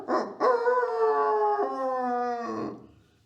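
A human voice imitates a rooster crowing, one drawn-out, wavering call of about three seconds that rises and then trails off, close and clear.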